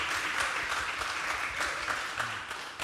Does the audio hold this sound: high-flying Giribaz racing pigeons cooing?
no